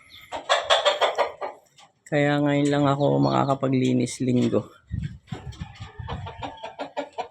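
Chickens cluck and call loudly nearby while a person talks over them, the birds' sharp harmonic squawks rising in the middle.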